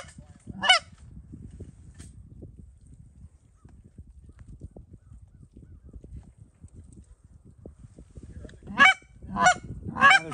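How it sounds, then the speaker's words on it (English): Canada geese honking in flight over Prince Edward Island during a goose hunt. A short burst of honks comes first, then a quiet stretch with low rustling and steps, then a close, loud run of repeated honks at the end. "There's geese down this way in the air somewhere."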